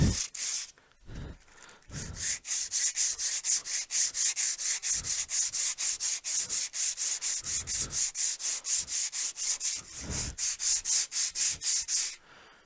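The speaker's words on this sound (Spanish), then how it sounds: "la lija, digamos que es muy agresiva con la superficie" Steady, rapid rasping of sandpaper scrubbing a hard glass surface, a rhythmic back-and-forth hiss that runs nearly unbroken with a few short pauses.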